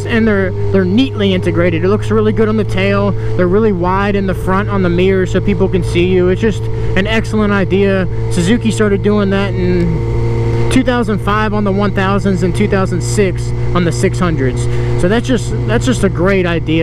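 A 2015 Suzuki GSX-R 600 sport bike fitted with an M4 GP exhaust idles steadily with a low, even drone, running continuously beneath someone talking close by.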